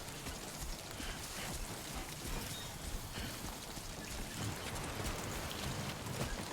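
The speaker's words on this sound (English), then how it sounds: "Raining again." Steady rainfall in the Death Stranding 2 video game, a soft constant hiss of drops at low level with no voices.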